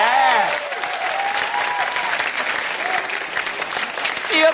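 A studio audience on a TV talk show breaks into loud, sustained applause that stays steady for several seconds, with a brief vocal exclamation near the start and end.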